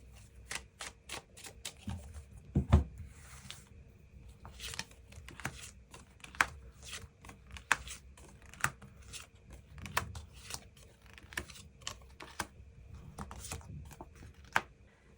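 A deck of tarot cards is shuffled and cards are drawn, making quiet, crisp flicks and soft slaps in an irregular rhythm close to the microphone, with no voice.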